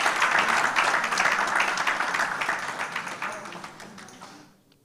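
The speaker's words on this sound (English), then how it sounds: "Please, a round of applause," Conference audience applauding in a hall, a dense, steady wash of many hands clapping close and loud, then fading out over the last second into near silence.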